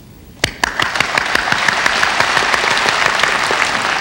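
An awards ceremony audience breaks into applause, starting with a few sharp claps and swelling at once into sustained, dense clapping that fills the hall and continues evenly to the end.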